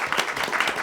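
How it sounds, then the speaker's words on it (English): Scattered clapping from a modest crowd at a school board meeting in Las Cruces, brief and moderately close, with individual hand claps standing out in an uneven rhythm. "I think you deserve a round of applause"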